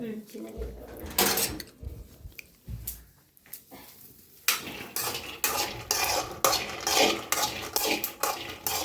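A spoon stirring food in a pot, with irregular clinks and scrapes of metal on metal, some louder knocks, and people talking nearby.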